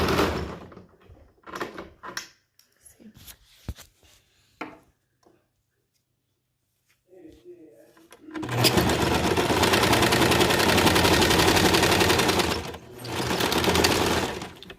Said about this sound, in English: I'm not going to take it out of the sewing machine.